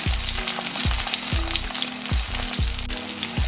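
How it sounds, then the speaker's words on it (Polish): Breaded pork cutlets fry in a pan with a loud, constant sizzle, while sharp thuds come at a steady, quick beat. "I obsmażam po drugiej stronie."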